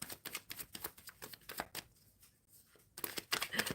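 Tarot cards are shuffled in rapid, crisp riffling flutters, followed by a brief quiet pause and another quick burst of shuffling, close and soft.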